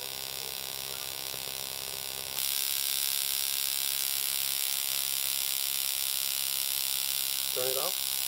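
A powerful plasma ignition device running, a harsh, continuous electrical buzz and whine that jumps louder partway through as it is switched on again, with a short voice near the end.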